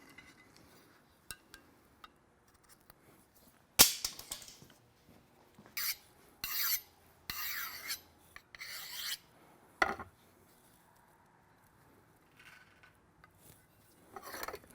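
A forged samurai chopper blade being sharpened by hand with a file or stone: scattered loud rasping strokes in short bursts, separated by quiet gaps and light metallic clinks.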